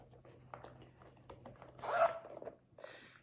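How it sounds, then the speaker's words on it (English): A small zipper on a Kate Spade wallet is pulled in a short, close rasping run, building to one louder zip near the middle, with faint handling rubs before and after in a quiet room. "it's got a little zipper there"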